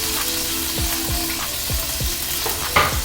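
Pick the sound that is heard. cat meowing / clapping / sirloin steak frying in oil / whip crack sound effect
sirloin steak frying in oil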